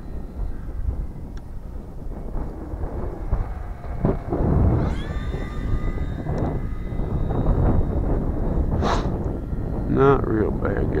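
An E-flite T-28 Trojan RC warbird makes a full-speed pass on a windy day, its electric motor whine rising and sweeping in pitch as it flies by, over heavy wind noise.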